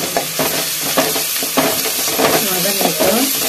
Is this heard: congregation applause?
no